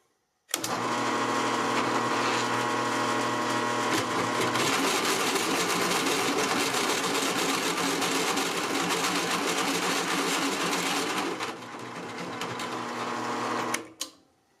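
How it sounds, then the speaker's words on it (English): A drill press with new belts and a tightened spindle, drilling with a sharpened bit: a steady, loud machine whine that runs unbroken for about eleven seconds, dips in level, then cuts off. "We've replaced belts, tightened up the spindle on the drill press, and sharpened this bit again."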